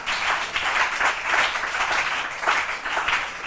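Church congregation clapping and acclaiming the name of Jesus Christ, with a rhythmic, pulsing wave of applause that swells and dips at a steady beat, moderately loud and without speech.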